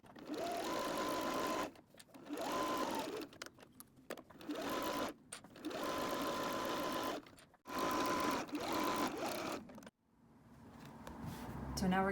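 A sewing machine stitches a quarter-inch seam on a summer madras tote bag in several loud, steady bursts separated by short pauses, then falls quiet before a softer rising noise at the end.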